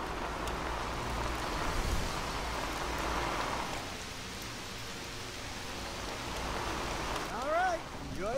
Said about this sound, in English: It's always good to go on a rainy day, right guys?